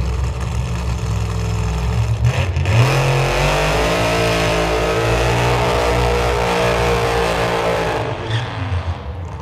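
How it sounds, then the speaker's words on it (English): A Top Alcohol Funny Car at drag racing qualifying in a solo run, a loud roaring engine that revs up and holds a rising whine for several seconds before fading, close and dominant. "we got Alcohol Funny Car. Car, just one, rolling around the corner"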